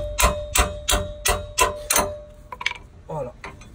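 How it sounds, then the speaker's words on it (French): A hammer strikes a wrench to loosen the rear brake caliper bracket on an Iveco Daily van, six sharp metallic blows in an even rhythm followed by lighter clinks of tool handling, close and loud. "On vient débloquer le support d'étrier à l'aide d'un marteau et d'une 22."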